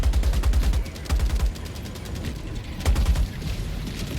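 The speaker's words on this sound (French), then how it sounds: "Ça, je vais tirer à la tourelle." Turret gunfire in a video game rattles out in rapid bursts of heavy, booming shots, loud and continuous with short gaps between volleys.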